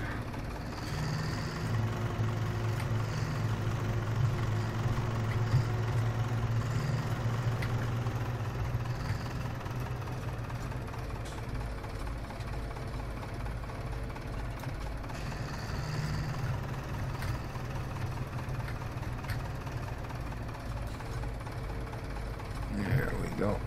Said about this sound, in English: Zetor, the big powerhouse of a tractor.